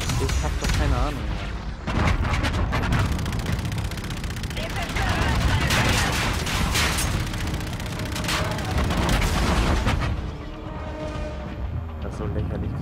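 Heavy cannon and gunfire in the shooter game Call of Duty: Infinite Warfare, a dense, continuous barrage of booming shots and explosions for most of the clip, easing near the end, with a voice talking over it.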